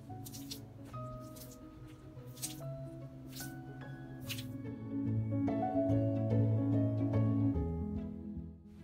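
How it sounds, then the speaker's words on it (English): Hand pump drawing water out of a 55-gallon drum through a water purification kit, with rhythmic squishing strokes and gurgling that build into a fuller, steadier wet flow midway before tapering. "It comes with a very powerful hand pump, which lets you pump or siphon water out of the drum."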